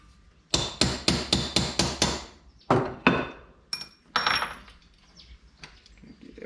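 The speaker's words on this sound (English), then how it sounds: "Get rid of the center pin and see if I can hammer that" Steel hammer blows drive the center pin out of a rivet on a rusted 1951 Chevy window track: about six quick, evenly spaced, ringing metallic strikes, then a few slower, uneven knocks and clatter, close and loud.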